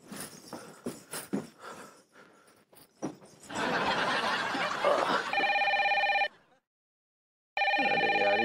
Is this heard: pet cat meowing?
no